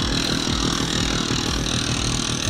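A Mofa moped engine runs steadily on the last of its fuel-oil mixture. It keeps up a continuous, rough mid-low drone close by, without revving.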